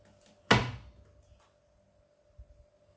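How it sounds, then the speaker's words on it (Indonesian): A single sharp plastic thunk as the detergent drawer of a Midea front-loading washing machine is pushed shut, followed by near silence and a faint later knock. "tutup laci sabun mesin cuci hingga rapat dan terkunci"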